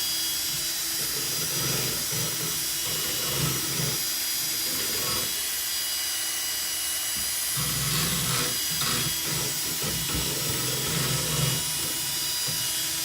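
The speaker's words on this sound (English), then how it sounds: "We're gonna mix that one with our mixer." A powered mixer stirs black base paint used for dipping a car, making a continuous whirring hiss with a low churning rumble that rises and falls slightly throughout.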